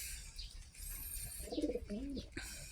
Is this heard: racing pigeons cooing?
yes